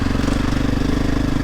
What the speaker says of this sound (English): you'll notice sometimes when I drop the revs it just seems to die off